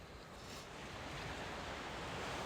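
Surf rolls steadily onto the beach at Ballantrae on Scotland's coast, a broad, continuous wash of breaking waves with some wind noise and no voices.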